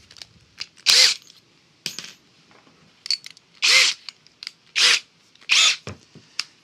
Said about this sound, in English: try drilling this out. So I've got a reasonably sized drill bit there.